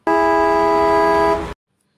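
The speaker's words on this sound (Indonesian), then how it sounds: "menggunakan klakson untuk menarik perhatian pengemudi tersebut" One long, loud truck horn blast sounds steadily for about a second and a half, then cuts off abruptly into silence.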